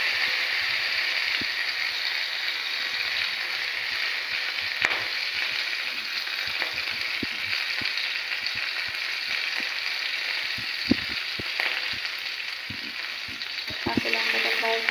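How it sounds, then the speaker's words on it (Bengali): Green chillies and black cumin fry in the oil rendered from hilsa fish, a steady loud sizzle with scattered crackles and pops, the odd clink of a stirring utensil, and no talk. "কাঁচা লঙ্কাটা প্রায় ভাজা হয়েই গেছে।"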